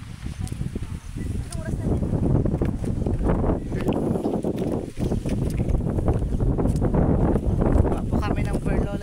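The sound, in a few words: wind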